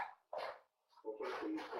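A dog barks at a house door in a few sharp, close bursts separated by short gaps, with some whimpering tone in the later barks.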